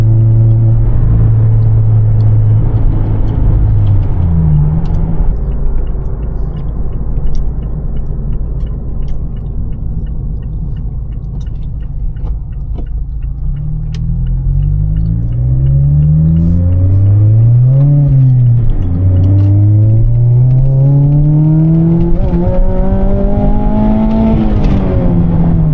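A Mazda ND Miata fitted with an AutoExe ram air intake revs up hard through several rising pulls, a loud, close engine note that climbs in pitch, drops at each shift and climbs again.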